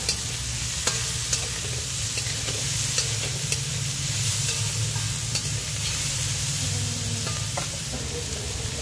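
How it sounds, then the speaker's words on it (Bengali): Mixed vegetables for vegetable dal fry in a pan with a steady sizzle, and a spoon stirring gives off scattered sharp clicks and scrapes, with no voices. "এবং এটা এখন ভাজা পর্ব চলছে।"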